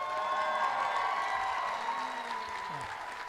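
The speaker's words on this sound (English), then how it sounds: "Let's give him a round of applause." Commencement audience at a community college graduation applauding steadily, a dense continuous wash of clapping that holds level, then eases slightly toward the end with some crowd noise.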